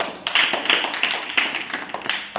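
A small group of people claps by hand, an irregular patter of sharp slaps with uneven rhythm, close and moderately loud, with no talking over it.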